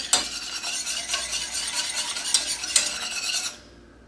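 Pudding mixture whisked briskly in a pot, giving a steady rapid metallic swishing that is loud and close, with a couple of sharp clinks against the pot before stopping abruptly near the end.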